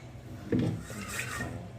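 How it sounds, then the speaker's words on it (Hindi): A pressure cooker is set down on a gas stove in a home kitchen during breakfast cooking, giving a single short, fairly close metallic-wooden knock followed by faint rubbing and handling noise. "तो यहाँ पे कुकर मैंने रख दिया है"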